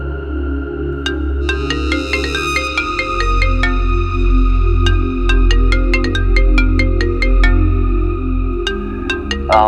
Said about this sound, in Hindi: अरे तेरी गर्लफ्रेंड का ही फोन आ रहा है।